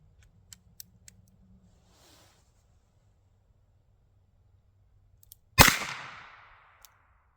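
A single sharp gunshot from an Arminius revolver firing .32 S&W Long rounds, loud and close with a short decaying tail, preceded by faint clicks and handling noises.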